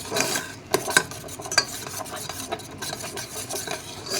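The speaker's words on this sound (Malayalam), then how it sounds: "കണ്ടില്ലേ തിളച്ചങ്ങ് വരുന്നുണ്ട് ഒത്തിരി ആ കോൺഫ്ലവർ ഒത്തിരി അങ്ങ് തിളച്ചങ്ങ് വരേണ്ട കാര്യമില്ല" Cornflour mixture for a homemade night cream, stirred in a pan as it simmers: close, irregular scraping and rubbing strokes of a spoon against the pan, with a soft bubbling underneath and no voices.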